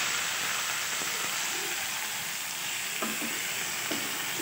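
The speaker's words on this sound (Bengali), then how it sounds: "তো ওই তেলে আমি দিয়ে দিলাম চিকেন" Chicken fries in mustard oil with a loud, steady, close sizzling hiss, broken by a few soft clicks of stirring.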